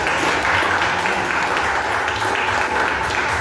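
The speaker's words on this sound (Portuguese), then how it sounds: "Aplauda o Senhor, igreja." A church congregation applauds during a worship service, a loud, dense, continuous roar of many hands clapping that fills the space evenly.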